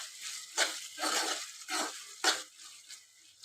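Spatula stirring fried tomato and onion in a pan for a meal maker curry, a run of short scraping, clattering strokes against the metal, close and moderately loud with brief pauses between them.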